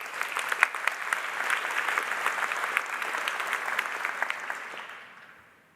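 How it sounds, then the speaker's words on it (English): Big round of audience applause at a conference opening keynote in Vienna, dense crowd clapping that holds steady and then fades out near the end. "so let's give them a big round of applause."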